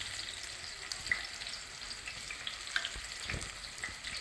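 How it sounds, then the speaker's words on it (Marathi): Curry leaves and onion fry in hot oil in a pot for mutton pickle, a faint steady sizzle dotted with small crackles, with no voices. "आपण एका भांड्यामध्ये तेल गरम करत ठेवलं त्यामध्ये आपण कढीपत्ता टाकायला लागत आणि कांदा घालून घ्यायचा त्यामध्ये"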